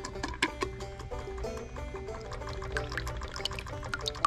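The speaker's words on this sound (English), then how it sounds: "adjust your water so that it's hitting in about the middle of the rock and turn your water on." Water runs steadily onto a rock on a diamond wire slab saw for lapidary work, a continuous trickling pour with faint ticking underneath.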